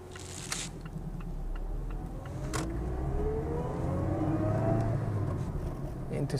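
A manual car's engine rises in pitch from the bite point as it pulls away during hill-start driving practice, a moderate, steady rev climbing over several seconds inside the cabin, with a brief click near the start.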